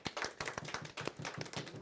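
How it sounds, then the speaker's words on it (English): A golf clap from a small group, soft, slightly muffled hand claps in a steady, unhurried rhythm, about ten claps in under two seconds, close and fairly quiet. "Golf clap."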